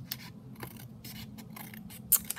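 Scissors trimming the edge of a paper page for a junk journal craft project, giving quiet close snips and light scraping at an unhurried pace, with a sharper cut near the end.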